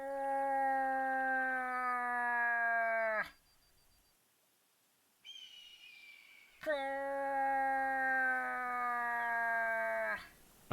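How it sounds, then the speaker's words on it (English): Two long, drawn-out moose calls from the hunting game Call of the Wild, each a loud, steady, reedy tonal bellow lasting several seconds, separated by a pause with a faint higher sound. "Not sure why that's a moose call,"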